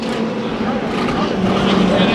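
Engine roar from a rough-running race car, number 40, during heat races at Bakersfield Speedway, a loud continuous drone mixed with other cars on track, under a commentator's talk.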